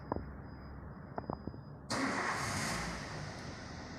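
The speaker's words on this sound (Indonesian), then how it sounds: "Setelah itu kita nyalakan kendaraan" A 2013 Toyota Avanza car engine starts after a few faint clicks. The starter catches at once into a steady, moderately loud idle, heard nearby with no talking.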